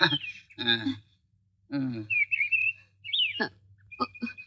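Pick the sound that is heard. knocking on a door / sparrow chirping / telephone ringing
sparrow chirping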